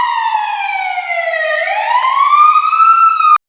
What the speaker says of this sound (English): fire brigade trucks wailed their sirens in the background